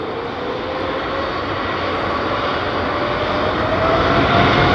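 An airplane at London Heathrow Airport gives off a loud, steady, broadband jet roar that swells slightly over a few seconds, with no voices over it.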